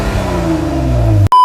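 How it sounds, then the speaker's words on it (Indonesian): A Jeep Rubicon engine with an aftermarket Dynomax exhaust, fitted to keep it from being too loud, gives a loud, close, deep rumbling rev that holds steady for over a second before cutting off abruptly. "Knalpotnya ini kita gunakan knalpot Dynomax. Ini made in USA ya, tapi suaranya nggak terlalu menggelegar."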